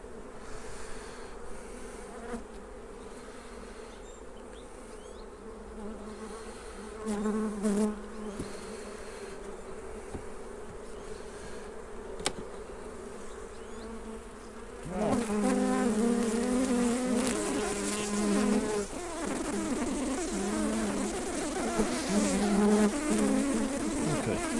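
Honey bees buzz around an open back-garden hive in a steady, close drone, growing louder and busier about midway as more bees swirl near the frames.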